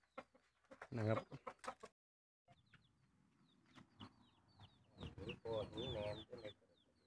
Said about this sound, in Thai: เบิ่งไก่ตีอีกรอบ